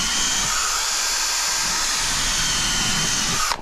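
A power drill boring holes into deck boards during a garden-plot platform rebuild, a steady high-pitched whine running continuously for several seconds before cutting off.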